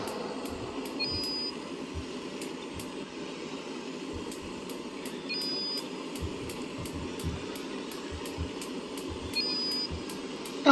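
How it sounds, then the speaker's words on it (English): Alarm aboard a burning oil tanker in Stormworks, a repeating electronic beep pulsing at a steady rhythm over a constant low mechanical hum and rumble, no voices. "the alarm is still going off"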